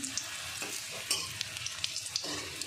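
Steady sizzling of shrimp and fig dumplings frying in hot oil, with occasional stirring clinks and scrapes, close up and no talking.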